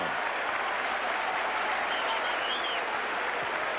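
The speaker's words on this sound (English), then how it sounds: "Ramirez helping lead the cheers from first base." Loud, dense crowd cheering and applause fills a packed Fenway Park during a 2003 ALDS playoff baseball game between the Athletics and Red Sox, a steady roar with no break.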